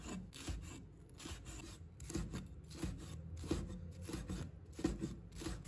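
A knife slices green and red peppers into thin strips on a cutting board, giving soft, quick, rhythmic cutting strokes that repeat steadily at a low level.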